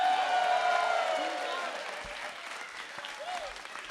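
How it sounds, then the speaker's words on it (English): An audience at an improv comedy show claps steadily, a dense wash of applause that slowly fades in loudness. "Can you give a round of applause for people listening?"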